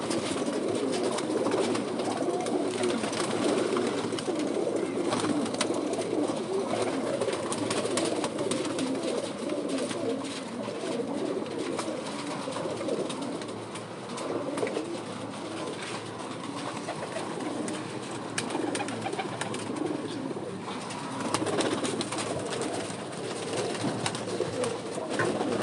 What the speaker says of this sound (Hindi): कबूतर चेक करें